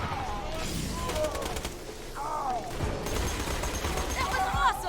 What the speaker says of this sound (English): There, I found an excuse to actually use the electric SMG.